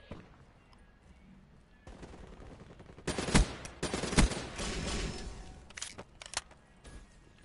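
Long-range gunfire in Black Ops 3, quiet ambience giving way to a loud three-second stretch of rapid shots and cracks with strong booming hits, then a few scattered shots trailing off.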